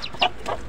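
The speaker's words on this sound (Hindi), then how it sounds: "मुर्गी देख सकते हो, इसके बच्चे देखो" Chickens clucking at a cattle farm, with a couple of short clucks close by over a light, steady background.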